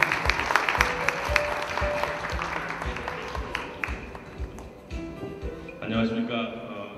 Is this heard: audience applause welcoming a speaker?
yes